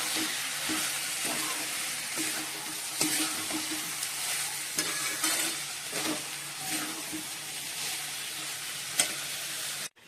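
Cabbage curry with garam masala sizzles and fries in a pan. A spoon stirs it with occasional scrapes, and the frying hiss stays steady and close until it cuts off at the end.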